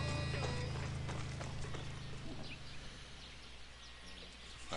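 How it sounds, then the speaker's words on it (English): Hooves clip-clop in a steady run from a horse in the video game Far Cry 6, loud at first and then fading into the distance over a continuous game soundscape. "Oh, there goes my horse."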